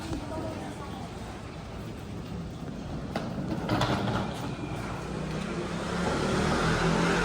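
A train rumbles at a Taiwan station on the route toward Shifen. The steady, low, rolling noise grows slightly louder toward the end, with faint voices in the background.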